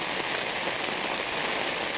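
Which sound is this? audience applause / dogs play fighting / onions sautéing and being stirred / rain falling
rain falling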